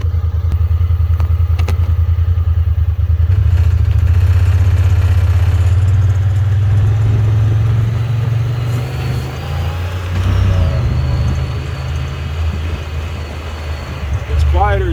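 A 2021 Honda Talon UTV with a custom exhaust mod rumbles steadily at a low, throaty idle and then moves off, its engine note shifting and fading slightly as it rides away, with faint voices in the background.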